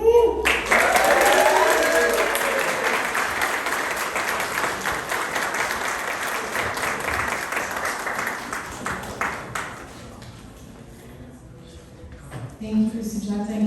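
Sustained applause from an audience at a women's awards celebration, steady and full for several seconds before thinning out toward the end, with a voice briefly speaking as it fades.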